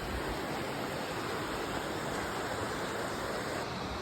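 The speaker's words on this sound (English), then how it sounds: "That's the waterfall water right there." Burney Falls waterfall roars as a steady, dense wash of falling water, broad and constant throughout with no voices, heard from nearby.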